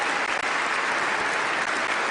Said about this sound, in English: A standing ovation and thunderous applause from the assembled guests here in Oslo City Hall.